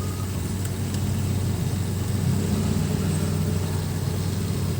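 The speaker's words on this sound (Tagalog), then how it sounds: "Tricycle." A motor tricycle engine hums steadily as it goes by, a mid-pitched droning motor that stays fairly loud throughout without clear speech over it.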